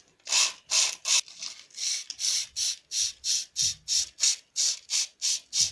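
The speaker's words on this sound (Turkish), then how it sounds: "İyice zımparalayalım ki temiz olsun." Rhythmic rasping strokes of sandpaper rubbing a washing machine motor rotor, about a dozen steady back-and-forth passes, close and fairly loud.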